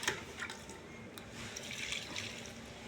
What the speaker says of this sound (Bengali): এই যে জল দিচ্ছি